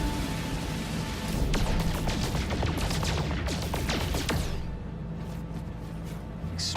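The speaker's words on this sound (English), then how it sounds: "Explosions!" Explosions in the space game No Man's Sky, with a dense run of heavy crashing bursts and rumbling blasts, loud and continuous, easing off slightly toward the end.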